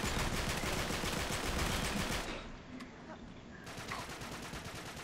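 Sustained rapid gunfire from the video game Uncharted 3, dense and loud for about two seconds before dropping to a quieter background with scattered shots in a monastery setting.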